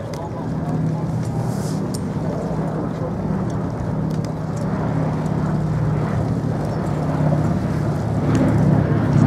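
The B-17 bomber Sally B flies back in from the left at the Duxford Flying Legends air show, a steady, droning piston-engine rumble that slowly swells louder, heard from a distance against the open-air background.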